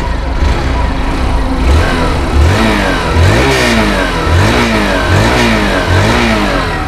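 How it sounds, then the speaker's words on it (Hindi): A 2023 Hero Super Splendor XTEC motorcycle engine revs repeatedly up and down in loud rising-and-falling exhaust bursts, close by, over a steady rumbling idle. "हम इस बाइक की एग्जॉस्ट को सुन लेते हैं"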